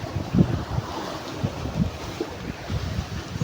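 Rough sea waves wash and slap around a small boat, with steady rushing water and gusting wind noise on the microphone throughout, close and fairly loud.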